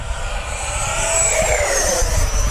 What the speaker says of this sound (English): I'm gonna go full throttle here. Downwind, high speed pass.